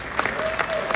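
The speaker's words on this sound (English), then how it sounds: "he deserves a round of applause for sure" An audience claps for Ben Mink, the violinist and guitarist who co-wrote and co-produced with Geddy Lee, during a live question-and-answer event. The applause is steady, dense and moderately loud, with a crowd murmur underneath.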